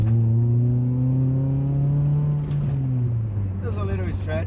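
A Mitsubishi Eclipse 2G engine idles high near 2,000 RPM with a loud, steady, close drone that dips slightly in pitch, followed by a brief burst of hiss at the end.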